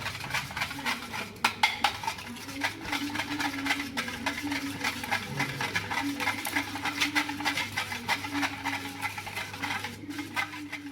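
Smashed eggs whisked in a bowl for egg pakoda, a steady patter of utensil scraping and tapping against the bowl, close and fairly busy, with a low background hum and no speech.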